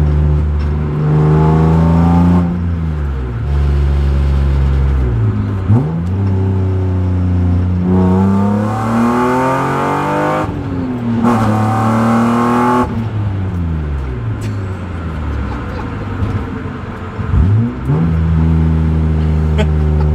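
A BMW E36 with an M50 intake manifold swap revs repeatedly, each blip climbing in pitch and falling back to idle, loud and close, with a few sharper throttle stabs near the end.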